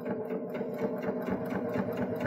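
A Baby Lock Jaz machine sews fabric through a double fold bias binder attachment, giving a steady, close, moderately loud mechanical whir with fast even stitching pulses.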